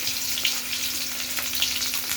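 Spices for a chutney are being tempered in hot oil, giving a close, bright sizzle with scattered crackling pops and faint stirring, steady and on its own.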